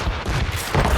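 A rolling volley of cannon or musket fire in the Assassin's Creed Rogue video game during a ship ambush, with a booming, rumbling barrage lasting the whole brief moment.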